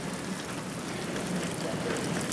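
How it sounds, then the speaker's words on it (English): Steady rain falling outside on a cold, wet day, a continuous dense hiss of drops on surfaces close by, with no talk over it. "For being just a rainy day, it sure looks like it's trying to turn to snow to me."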